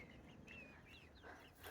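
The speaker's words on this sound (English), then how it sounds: "these are the chickens" Young backyard chickens in a garden pen give a few short, faint clucks and chirpy calls with brief pauses between them, over a steady low background hum.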